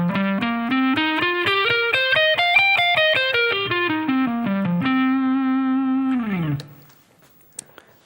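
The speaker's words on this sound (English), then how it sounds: "if I start from the lowest root note and play through the scale, it will sound like this" A distorted electric guitar runs up and back down a pentatonic scale from F, one note at a time in a steady rhythm, ending on a held low note that bends downward and fades.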